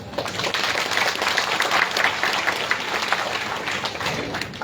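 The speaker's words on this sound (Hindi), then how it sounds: "ताली 2-4 ने बचाई," An audience at a religious gathering gives dense, steady applause, many hands clapping together in a continuous crackling wash that holds even for nearly five seconds without talk.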